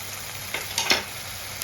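Spice masala frying with yogurt for egg curry gives a soft steady sizzle with a few quick stirring scrapes near the pan, brief and quiet with no voices.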